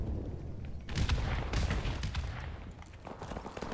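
Gunfire in Call of Duty Modern Warfare: several loud, dense bursts of shots roll over one another with a booming low end, close and continuous across the moment.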